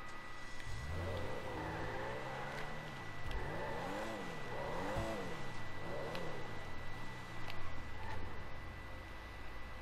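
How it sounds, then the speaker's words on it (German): A car engine in GTA V Online revs and drives, rising and falling in repeated waves through the gears, steady and fairly close with a constant background tone and no talk over it. "Ich fahr das Auto rüber."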